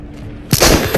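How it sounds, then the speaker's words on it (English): A single loud gunshot with a hollow-point round in the VR shooter Into the Radius, a sharp close blast with a short ringing tail and a few faint clatters after it. "Ooh, that was a single shot."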